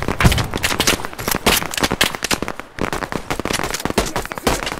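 Automatic gunfire in a video game fires in dense, rapid bursts of sharp reports that run almost without a break, loud and close, with only brief pauses between strings of shots.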